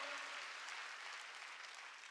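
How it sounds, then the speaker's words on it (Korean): A church congregation claps along during a worship service, a soft, even patter of many hands that holds steady throughout and fades slightly toward the end. "박수 치며"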